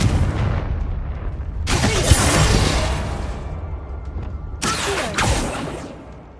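Confringo explosive spell in the video game Hogwarts Legacy, two loud booming blasts a few seconds apart, each a sharp broadband burst with a rumbling tail, over a low game background.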